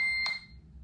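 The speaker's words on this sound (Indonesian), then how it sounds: "HP gue bunyi." A phone rings after being triggered by the find-device function of a Mi Band 4 fitness band: one short, bright electronic tone with a steady high pitch, sounding alone in a quiet room and fading out quickly.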